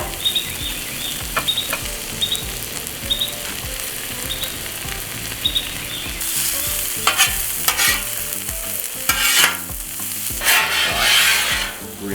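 Carrots and onions stir-frying in a pan for fried rice, a close, steady sizzle broken by repeated scraping and tossing strokes that grow louder and busier partway through, with no voices.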